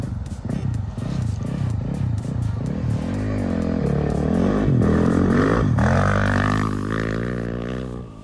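A Yamaha motorcycle sets off on a rally raid ride in San Juan, its engine chugging unevenly at first, then rising in a sustained rev as it pulls away close by.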